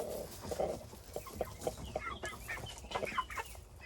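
A hen clucks softly while feeding her chicks on the ground, a quiet series of short clucks and scratchy pecking sounds close by.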